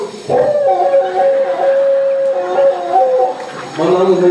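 A male comedian on stage imitates a dog's howl, holding one long, steady, wavering note up close and loud before breaking off.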